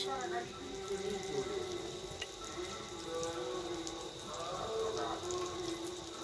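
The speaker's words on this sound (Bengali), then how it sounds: "সয়া সস দেবো আমি 4 চামচ" Soy sauce hits a hot pan of chilli chicken, and a steady hissing sizzle runs throughout over faint tonal background sound.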